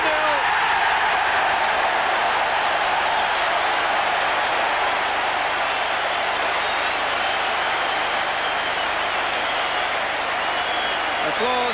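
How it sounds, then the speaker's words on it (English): A large football stadium crowd at Old Trafford's Stretford End applauds and roars continuously after a Manchester United goal against Spurs, a loud, dense wash of clapping and cheering with no pause throughout. "Applause from the Stretford end as McClair made no mistake from the spot."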